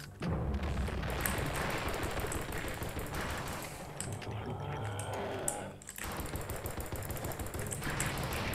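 Rapid gunfire from the video game Blood and Bacon, dense bursts of shots rattling almost continuously, with a brief lull midway before the firing resumes.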